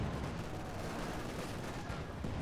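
MG42 machine gun fire in the Company of Heroes 2 war game, a dense rattling burst of gunfire with rumbling battle noise behind it, sustained and loud across the whole moment.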